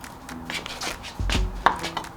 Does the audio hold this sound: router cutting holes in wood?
no